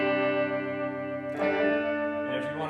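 Electric guitar played through the tremolo on a Hydra effects pedal: a sustained, harmonically rich chord that pulses in volume, then a second strummed chord continuing the wavering, effect-laden tone, with no voices.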